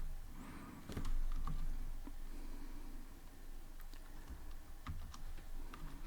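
Steady, quiet keystrokes on a computer keyboard while coding in Python, soft clicks tapping at an uneven pace throughout.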